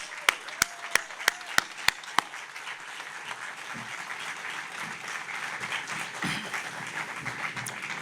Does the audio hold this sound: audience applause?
yes